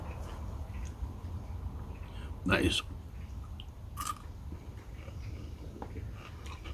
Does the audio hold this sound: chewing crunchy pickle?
yes